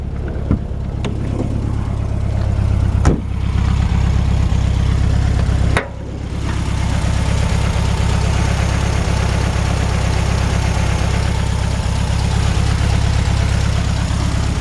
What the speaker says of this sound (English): Really healthy little engine.